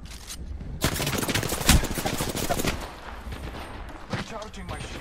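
Rapid automatic gunfire rattles in bursts during an Apex Legends video game firefight, dense close shots peaking mid-clip and trailing into sporadic pops, with a voice speaking over the shooting.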